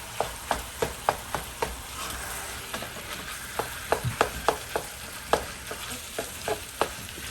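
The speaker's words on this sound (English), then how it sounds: "Make sure you really mix really good so all the spices and all the onions and the hot peppers are all in." A spoon scrapes and clacks rhythmically through a pan of samosa filling with spices, onions and hot peppers, sharp repeated strokes over a soft sizzle, with no talk.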